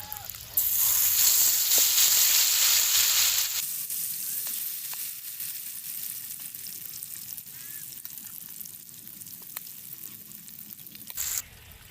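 Food fries in a pan during rural home cooking, a loud close sizzle for the first few seconds that settles into a quieter steady crackle and hiss, with a brief flare near the end.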